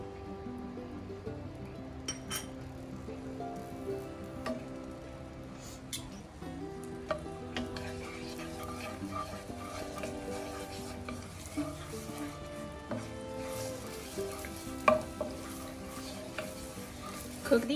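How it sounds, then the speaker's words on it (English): Minced onions, about a tablespoon and a half, frying in warm oil in a pan for buttery garlic mushrooms, a soft steady sizzle with occasional stirring clinks and scrapes throughout. "Once the oil is warm enough, I'm gonna add minced onions, about a tablespoon and a half here."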